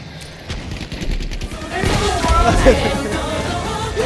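Gunfire from the Battlefield V video game: quick rapid shots crack early on, then give way to a dense, rumbling wash of battle noise.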